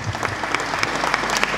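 An audience at an Italian conference on Blessed Roberto da Salle applauds, a brief burst of many hands clapping at steady strength in a hall.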